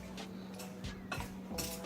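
A metal spoon stirs drink mix into hot water in a cup, several quick clinks and scrapes against the sides in an uneven rhythm, close and quiet over a faint hum.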